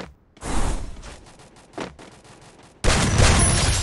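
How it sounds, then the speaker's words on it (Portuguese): Gunfire exchanged in the mobile battle royale game Free Fire, bursts of rapid automatic shots with a brief gap, ending in a louder sustained volley. "A rapaziada tá trocando tiro ali em cima."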